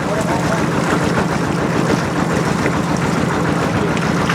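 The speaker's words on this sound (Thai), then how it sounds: "มีแต่ลมเป่าแล้วก็น้ำมันออกมา" Water and compressed air gush steadily from a newly drilled groundwater borehole, a loud, continuous broadband roar and hiss with no pauses, and faint voices mixed into the noise.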